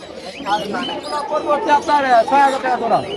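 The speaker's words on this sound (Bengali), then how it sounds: "দেখেন প্রচুর পাখি আছে" Birds chirp and coo together under a voice, a busy chatter of many small birds close by at a bird market in Mirpur 1, Dhaka.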